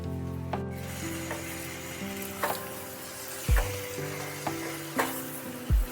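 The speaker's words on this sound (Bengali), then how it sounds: "টমেটো দিয়ে ভালোভাবে কচুটা নাড়াচাড়া করতে হবে বেশ কিছুক্ষণ ধরে।" Giant taro and tomatoes are stirred in a frying pan, giving a steady sizzle with scraping strokes of the spatula every second or so, close and fairly quiet, with no talking.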